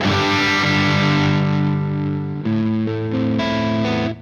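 A heavily distorted electric guitar rings out sustained power chords through a Soldano Mini SLO amp on its rhythm channel, loud and saturated, the chords changing a few times.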